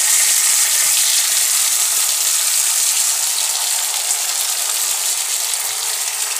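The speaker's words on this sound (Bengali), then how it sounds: "এখন আমি কড়াইতে মাছগুলো এইভাবে আমি সাজিয়ে দেব যেন না ভেঙে যায়" Marinated catla fish pieces sizzle in a kadai as a continuous, close, even hiss that holds steady throughout with no voices.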